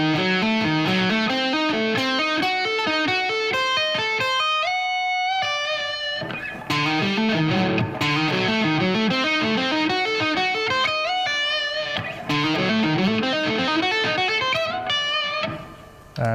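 Overdriven electric guitar plays a slow five-note phrase over and over, each sustained note clear and distinct, loud and close with no talking.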